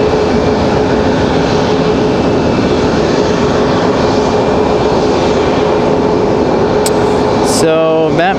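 A FedEx cargo aircraft, flight 785, arriving at Raleigh-Durham International Airport makes a loud, steady engine roar that holds for the whole stretch, with a brief change near the end.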